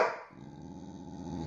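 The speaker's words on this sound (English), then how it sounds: "That's my dog." A dog indoors lets out a quick bark, then a low, steady growl rumbles on close by, with no talking over it.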